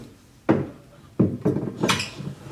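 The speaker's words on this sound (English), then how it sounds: "I collected these already, which are silver-plated silverware. They go in here." Silver-plated silverware clatters into a cabinet in several sharp metallic clinks and jangles, with a longer rattling jumble toward the end. No one speaks.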